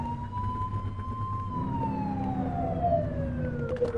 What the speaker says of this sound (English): flip the siren and make them pull over